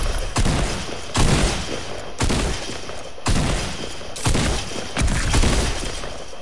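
Rapid gunfire in the Fortnite video game, about six loud, sharp volleys spaced roughly a second apart, each with a crackling tail, repeating steadily without speech.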